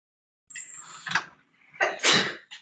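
One person sneezes indoors during a thin-lens physics class, a sharp sibilant burst followed by a second, louder explosive sneeze, close and otherwise quiet.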